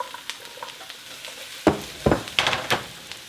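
Squash dropping into a hot pan with garlic gives a faint sizzle, broken by several sharp clatters and scrapes as the vegetables land and get moved around.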